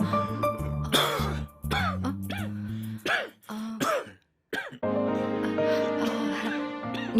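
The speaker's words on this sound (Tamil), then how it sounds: "நீ பாக்குறல்ல அப்பா எப்படி இருமுறாருன்னு" An older man, the father, coughs and clears his throat in a series of harsh, hacking bursts, close and fairly loud, with brief pauses between fits and a short silence near the middle.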